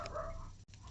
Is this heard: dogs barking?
yes